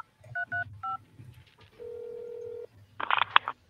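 Phone-a-friend hint in the video game Escape COVID-19: three quick dialing tones, a long steady tone, then a burst of bright ringing chimes.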